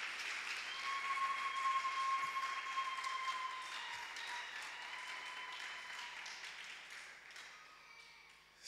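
Church congregation applauds for the Lord, a sustained crowd clapping that swells and then gradually tapers over several seconds, with faint scattered voices mixed in.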